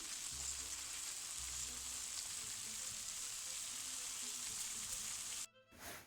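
Dudhi halva with mawa is stirred in a hot pan, giving a steady soft sizzle and continuous frying hiss throughout, with a brief drop in sound near the end.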